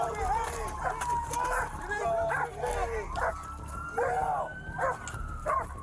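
A police dog barks, yelps and whimpers in a rapid, irregular series close by, with people talking over the top and a faint siren-like tone running behind.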